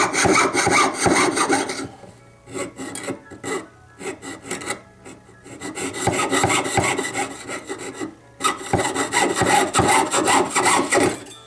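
A fine jeweler's saw cuts by hand with a quick, steady stroke rhythm, running close beside a marked line. The rasping comes in three long bursts broken by short pauses, loud and close, with no voices.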